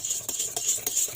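A utensil scrapes and folds through batter in a bowl for a rolled cake, soft rhythmic strokes repeating about every third of a second, close and fairly loud, with no talk.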